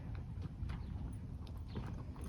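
A horse's hooves clip-clop steadily at close range as it is driven forward during a cowhorse drill, giving a continuous muffled rhythm of footfalls over dirt.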